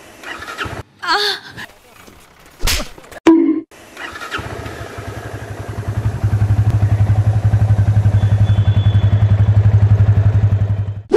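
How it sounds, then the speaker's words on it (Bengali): Yamaha Fazer 25 motorcycle with a 250cc single-cylinder two-valve engine: some clunks and a brief start attempt, then a steady, loud, throbbing idle that runs alone to the end. "এবার একটু ইঞ্জিনের আওয়াজ শোনা যাক।"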